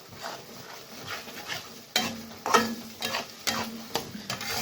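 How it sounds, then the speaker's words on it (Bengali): Spatula scraping and stirring fried onions with a bean paste, green chilli and garlic in a pan, a gentle sizzle under a series of sharp metallic scrapes and knocks, close and clear with no talking. "তো পেস্ট করে রেখেছি সিম, কাঁচা লঙ্কা আর রসুন দিয়ে দিন। ভালোভাবে নেড়ে চেড়ে নিই।"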